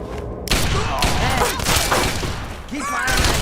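Gunfire in the video game Fallout 3, a burst of loud shots and impacts packed into a few seconds of combat, close and heavy, with clattering debris and a voice mixed in.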